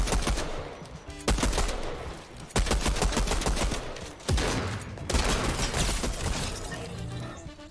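Rapid bursts of pistol gunfire crack out in Fortnite, loud and close, in several dense volleys separated by short pauses, with no voices over the shots.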